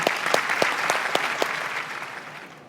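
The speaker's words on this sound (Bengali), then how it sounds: "আঙ্কেলের জন্য জোরে করতালি হবে" A studio audience on a televised family reality game show claps loudly with a dense burst of applause that gradually tapers off.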